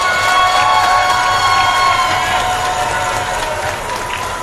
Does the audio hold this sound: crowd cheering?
yes